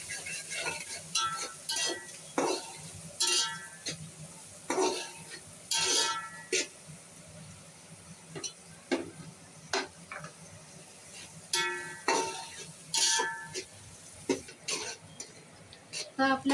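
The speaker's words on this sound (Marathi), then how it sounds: "कांदा चांगला परतून घेऊया." Onions with green chili and curry leaves being sautéed and stirred in a pan while cooking prawn biryani, with frequent scraping and clinking spoon strokes over a low sizzle, in irregular bursts.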